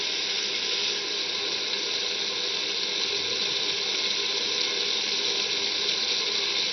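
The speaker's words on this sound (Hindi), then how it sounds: "फिर भूनने के बाद हम इसमें पानी ऐड करते हैं।" Water pours into a pan of sautéed chana dal with pumpkin, making a steady, continuous hissing rush that stays at an even level throughout, with no talking.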